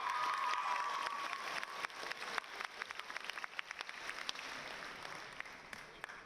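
Applause from a crowd at a high school graduation ceremony for Lincoln High School's class of 2026, a dense steady patter of many hands clapping, with scattered louder claps and some cheering mixed in.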